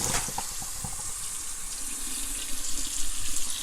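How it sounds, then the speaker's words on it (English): Cold tap water runs over cooked pasta in a colander, a steady close faucet rush with sloshing splashes that grow louder toward the end. "rinse it with that cold water"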